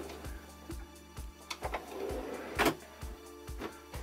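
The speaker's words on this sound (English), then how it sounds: "I'll open the drawer up here." A kitchen drawer in a German LMC Explorer Comfort motorhome slides open with a faint rumble and a few clicks, under a quiet, regular mechanical ticking in the background.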